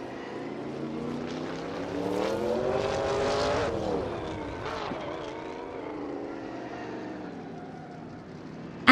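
Race cars scream past in a video game race, engines whining and rising in pitch, then dropping as they pull away, a continuous layered drone with a brief sharp click at the end.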